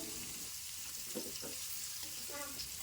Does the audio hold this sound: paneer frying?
yes